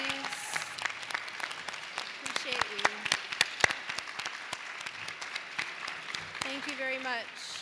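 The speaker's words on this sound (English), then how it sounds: "Can we give them a big thank you and round of applause, please?" An audience at a school panel event gives teachers and staff a moderate round of applause, with scattered, uneven claps and voices talking over and around the clapping.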